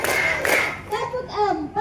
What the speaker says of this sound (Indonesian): Tepuk satu, tepuk dua, tepuk tiga,